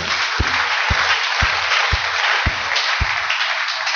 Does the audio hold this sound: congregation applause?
yes